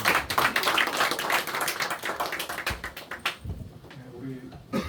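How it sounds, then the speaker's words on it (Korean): A church congregation at a Sunday morning service claps in dense, lively applause that thins out and fades after a few seconds, with voices murmuring underneath. "우리 하나님께 영광의 박수로"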